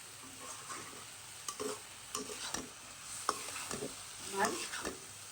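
Spinach and potato curry frying in a pan as it is stirred, with a soft sizzle beneath repeated scraping strokes of a spatula at irregular intervals, close and fairly quiet, with no talk.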